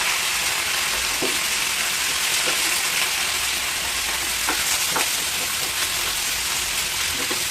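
Drumstick (moringa) pieces fry in a pan alongside chicken and broad beans for a drumstick-tomato curry, giving a steady close sizzle with occasional stirring scrapes and crackles throughout.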